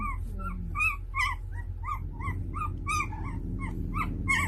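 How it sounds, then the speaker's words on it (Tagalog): An angry dog whimpers and yips in a rapid series of high, nasal cries over a low rumbling background, close by. "nagagalit po ang kanyang alagang aso"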